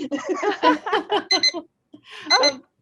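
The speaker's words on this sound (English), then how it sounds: "There's our timer." An electronic timer alarm rings out in a quick run of bright, melodic bursts, pauses, then sounds once more.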